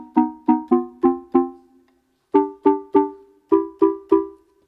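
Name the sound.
tone loaded on Qun mk2 synthesizer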